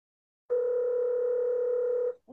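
Telephone dial tone after a call is hung up, a steady, clear, moderately loud tone lasting about one and a half seconds before cutting off abruptly.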